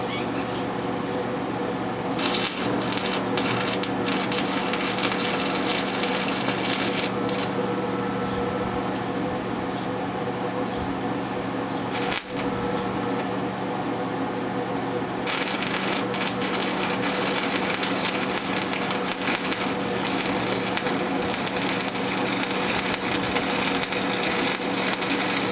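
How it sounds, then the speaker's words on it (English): A Century AC/DC arc welder stick welding, producing a steady, close crackling buzz over a low electrical hum. The arc cuts in and out, with quieter stretches and a brief break before resuming loudly. "And I will go ahead and weld."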